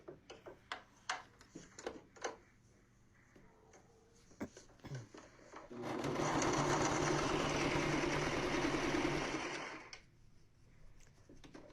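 A sewing machine runs a zigzag stitch along the side seam of a Shark steam mop replacement pad, a steady loud whir lasting about four seconds, preceded by sharp clicks and taps of handling the fabric and machine.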